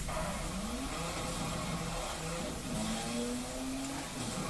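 Engine note rises steadily as a car accelerates through gears in Need for Speed: Hot Pursuit (2010), a continuous revving drone with pitch climbing and dropping at shifts.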